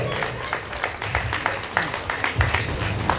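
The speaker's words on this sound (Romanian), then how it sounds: "Aplauze pentru Aurelian Andronache!" An audience applauds racing driver Aurelian Andronache at a ceremony in Câmpulung, steady rhythmic clapping from a crowd that carries on throughout, with a voice speaking over it.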